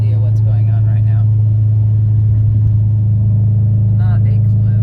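A 2003 Honda Civic drives along a road, its steady low engine and tire rumble filling the cabin continuously, with brief faint voice sounds near the start and end.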